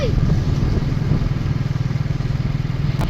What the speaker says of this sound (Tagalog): Pero mostly mga motor lang yung sasakyan dito.